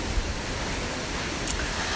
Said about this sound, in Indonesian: batu besar yang ada di bawah air terjun merupakan tempat duduk Dewi Anjarwati